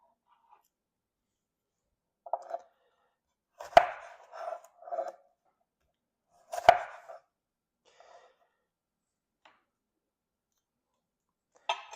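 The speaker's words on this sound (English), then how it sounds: "Next, I'm going to cut my onion." A kitchen knife cuts through an onion on a cutting board in sparse, crisp chops: a few short clusters of blade strikes with some sharp, louder knocks between long quiet gaps. No one speaks.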